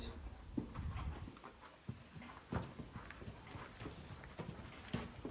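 Hooves clip-clop at a slow, uneven walking pace, soft and somewhat distant, with quiet background noise between steps.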